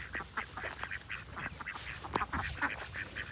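A small flock of ducks quacks in rapid overlapping bursts, close and fairly loud, with irregular nasal calls outdoors and no talk.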